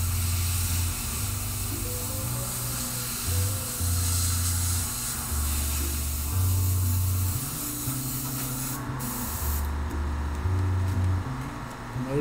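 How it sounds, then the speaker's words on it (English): An airbrush fed by a small handheld compressor sprays paint over a stencil. The steady close hiss runs throughout under a low pulsing motor hum. "just coming in with an airbrush, maybe with one of those little handheld compressors"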